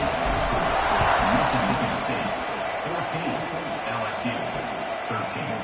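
A football stadium crowd at an LSU game roars in a steady, dense wash of cheering just after a go-ahead extra point, sustained and loud throughout with no single voice standing out.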